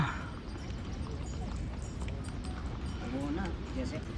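Horses and mules walking along the mountain Amarnath pilgrimage trail from Baltal, hooves clip-clopping in a loose rhythm close by, with people talking over them.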